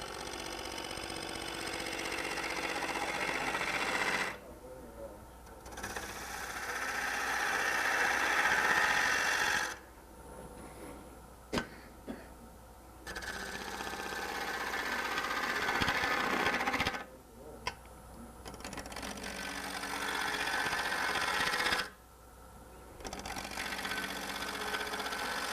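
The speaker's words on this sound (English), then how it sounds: "Go to a spindle gouge to get a little deeper into the corners." A spindle gouge cuts wood turning on a lathe, giving a rough, continuous cutting roar in several long passes, broken by short quieter gaps where the tool lifts away; close and steady, with no talk.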